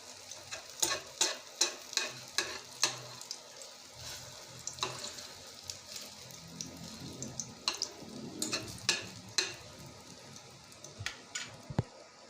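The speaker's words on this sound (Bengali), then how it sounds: "আমার তেলটা গরম হয়ে গিয়েছে একদম গরম করে নিয়েছি আমি এক মুঠাগুলো ছেড়ে দিচ্ছি প্রথমে আমি দুটা ভেজে দেবো" Soybean muitha dumplings frying in hot oil give a quiet sizzle with a scatter of sharp clicks and pops through the whole stretch, plus a few spoon or pan knocks, and no talking.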